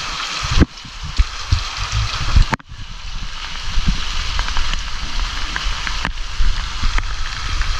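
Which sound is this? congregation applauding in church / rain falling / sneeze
rain falling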